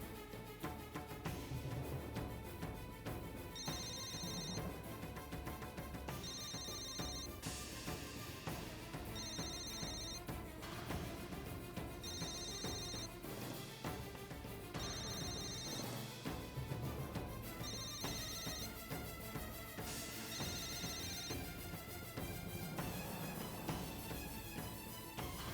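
A mobile phone rings with a repeating electronic ringtone melody, regular bursts recurring every few seconds over a full musical backing in a drama scene.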